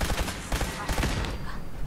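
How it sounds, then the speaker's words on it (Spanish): Automated gun turrets in Fallout 4 let off a dense, rapid burst of gunfire, loud and continuous for about two seconds, with no voices over it. "Cuidado, cuidado, torretas ahí."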